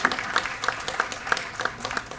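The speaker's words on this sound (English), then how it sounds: "Another round of applause to the audience for artist Devender." Audience clapping at an annual awards ceremony, a sparse group applause with distinct individual claps landing in a loose, fairly regular rhythm, moderately close and alone without talk.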